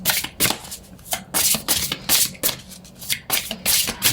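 Oracle cards are shuffled by hand in quick repeated riffles, crisp papery bursts about twice a second, close and fairly loud, with no talk.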